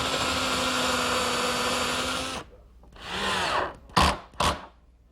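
A power drill whines steadily for a couple of seconds as a screw drives into the wooden ridge cap of a greenhouse. It slows and stops, followed by a rising whir and two short bursts as screws are seated, close and clear with no talk.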